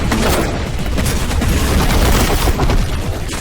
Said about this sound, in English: there is the Vengeance launcher, which functions a bit like a grenade launcher with timed projectiles